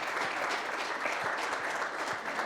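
Audience applause at a BTCPay Day 2025 conference session, dense steady clapping from a crowd sustained throughout, fairly close and even.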